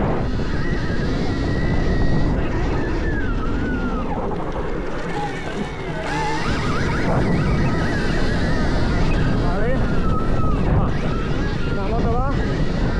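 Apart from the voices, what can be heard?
Stark Varg electric motocross motorcycle being ridden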